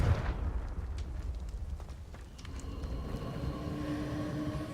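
In Hogwarts Legacy, the Confringo fire spell lands with a loud booming explosion at the start, then a rumbling roar decays under rising tonal game sounds and soft crackles.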